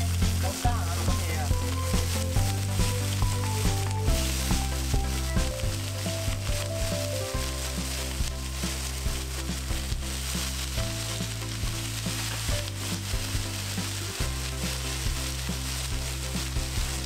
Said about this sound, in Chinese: 咁烧热咗之后咧，可以直接放啲虾入去煎噶啦。